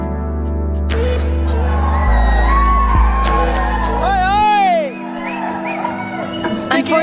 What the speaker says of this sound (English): enjoyed the movie as well as the screaming Indian locals